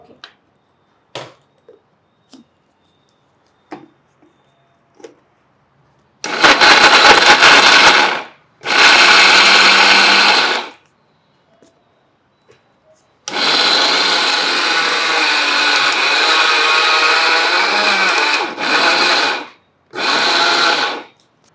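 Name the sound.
mixer grinder blending dates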